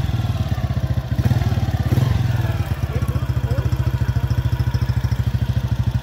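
Motorcycle engine running steadily close by, with a dense, pulsing low throb and a brief swell of revving near the start, ridden in the open with wind noise over the microphone.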